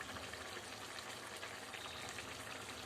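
Anchovy peera, a Kerala fish dish, simmers in a pan as its water cooks away, giving a steady, dense sizzling and bubbling hiss that runs unbroken and fairly close.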